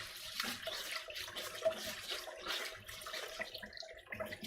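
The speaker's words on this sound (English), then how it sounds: "So just wash it in the tap water." Rice is washed under cold tap water for chicken adobo, with steady running water and irregular splashing and swishing close by, moderately quiet and continuous.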